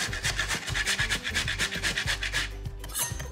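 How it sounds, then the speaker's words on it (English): Dehydrated coconut is rubbed against a grater in quick, regular rasping strokes, close and fairly loud, with no talk. "With the bananas and our fancy dehydrated coconuts, you just want to grate this."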